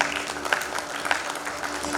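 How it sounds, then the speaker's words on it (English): At a post-lunch digital transformation panel in Guwahati, the conference audience breaks into brief, steady applause, a continuous rattle of many hands with a few sharper claps. "Can we have a louder round of applause?"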